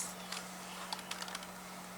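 Soft, close keystrokes on a computer keyboard click in a brief irregular flurry over a steady low electrical hum, quiet and without talk.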